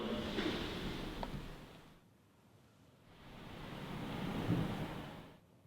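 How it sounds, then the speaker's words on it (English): Ocean waves beside the Quarantine Station in Melbourne, two slow swells of surf rising and falling, fairly faint and distant with some wind rumble. "Is that water? Yeah, the ocean's right next to us, guys."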